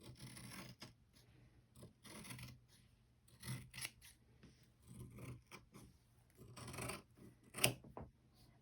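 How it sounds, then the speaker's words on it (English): Faint, close scissors snipping and rasping through ribbon-trimmed tutu material in irregular short cuts, with soft rubbing noises between them. "We're just going to get some good old-fashioned scissors and finish this"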